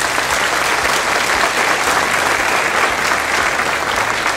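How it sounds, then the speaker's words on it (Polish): Loud, sustained applause from an assembly at a school's 50th-anniversary jubilee in Czersk, welcoming school directors, with a dense, even roar of clapping and no break. "bardzo serdecznie przywitajmy ich gromkimi oklaskami"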